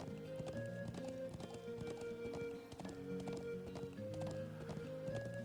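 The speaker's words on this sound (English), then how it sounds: "I like the fact they give you horses in this game." Horse hooves clip-clop rapidly in a galloping rhythm in the video game The Legend of Heroes: Trails of Cold Steel, mixed with layered background music, moderately loud and continuous throughout.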